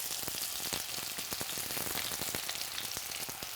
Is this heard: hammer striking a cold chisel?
no